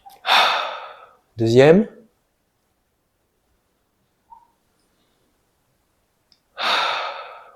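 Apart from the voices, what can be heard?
deep breaths during a breathing exercise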